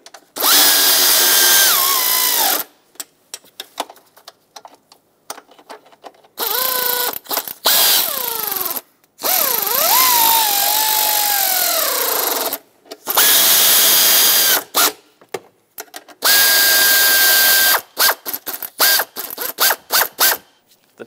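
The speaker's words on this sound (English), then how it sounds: "I'm going to snug these all up, going in a cross pattern. Of course, I will torque them, so with my air ratchet" An air ratchet snugs the intake manifold bolts on a 2014–2021 Mazda 6, firing in loud repeated bursts separated by short pauses, its whine rising and falling as each bolt is run down.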